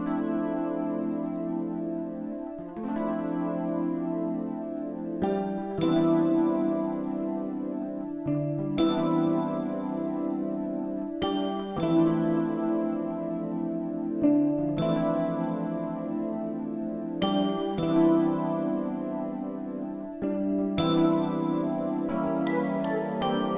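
Layered D50 VST patches, Wurlitzer electric piano, bell and jazz guitar, play an 80s R&B melody together, with chords struck every few seconds over a sustained warm tone. The sound is steady and moderately loud, with no voices.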